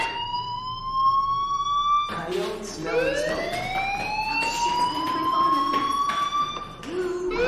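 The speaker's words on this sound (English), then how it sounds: "Hey, do you hear that fire alarm?" A Life Is Strange game fire alarm wails in rising, sweeping siren tones that repeat and overlap, loud and continuous, with background sound of people underneath.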